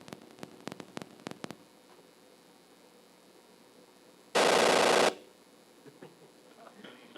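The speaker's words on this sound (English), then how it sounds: "When you set dynamite, it's got a nice little explosion sound." A dynamite blast in an 8-bit Apple II game sounds as a single harsh burst of loud white-noise static lasting under a second, preceded by a few sharp ticking clicks.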